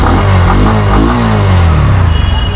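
A 125cc motorcycle with an underbelly exhaust revs loudly up close, its engine note climbing in a couple of quick throttle blips before falling back toward idle, no talking.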